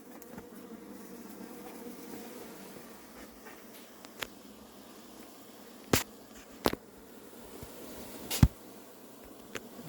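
A recently settled honeybee swarm buzzes around its hive with a soft, continuous hum, and a few sharp clicks and knocks of handling stand out near the end.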